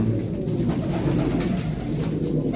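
Pigeons coo continuously in low, throaty murmurs, close and steady, with no talking.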